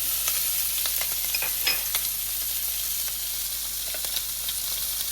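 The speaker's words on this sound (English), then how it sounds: "Now that the sausages are nice and brown, we're going to add the onions" Onions hitting a pan of browned sausages sizzle steadily, a bright, close frying hiss with faint scraping ticks of stirring, continuous and without talk.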